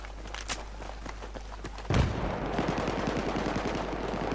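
Pistol fire in the online shooter Battlefield 3 crackles as several sharp shots, then a louder burst of rapid gunfire and battle noise continues to the end.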